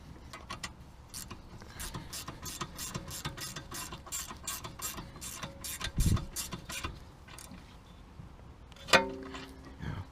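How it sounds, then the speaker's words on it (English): A ratchet spanner clicks in quick repeated bursts as it tightens a bolt on the rear brake of a 2016 Volkswagen Passat, with close metallic ticks and a few louder clanks. "or I use the 10 ratchet spanner. And just tighten it."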